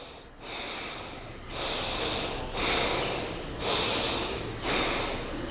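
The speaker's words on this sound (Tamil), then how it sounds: "மெதுவாக மூச்சை உள்ளழுங்க மெதுவாக மூச்சை வெளியிடுங்க" Slow, deep breaths in and out, roughly five long airy surges at an even pace, close and clear with no talk over them.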